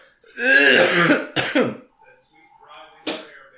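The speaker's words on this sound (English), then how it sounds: "It's like a cough, not even a sneeze." A throat-clearing cough with a rough, raspy burst, followed by a couple of shorter hacking sounds. Close and fairly loud, a voice vocalizing around it.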